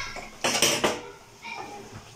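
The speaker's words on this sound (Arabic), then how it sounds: "ونقلبها في بعضها" A spoon stirs kabsa in a metal cooking pot, making a short burst of scraping, clinking strokes followed by a softer scrape, close by and with no talking.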